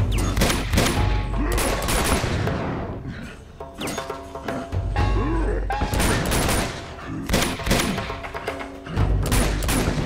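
Dense video game gunfire from Uncharted 2, with rapid bursts of shots and heavy thuds that come in waves across the clip. The firing is loud and close, with a few short quieter gaps between volleys.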